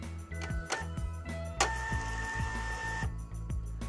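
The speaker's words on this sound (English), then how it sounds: "The media now prints with even pressure and good resolution" Zebra ZT220/ZT230 label printer printing, a steady mechanical whir with a repeating rhythmic ticking pulse and faint tonal whine, close and continuous, no talking.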